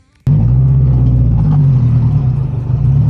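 A car's engine bursts into a loud, close, deep rumble as it is pulled out of a garage, then holds a steady heavy drone with slight wavering.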